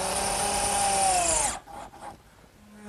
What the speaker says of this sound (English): fasten it with some 1 1/4 inch screws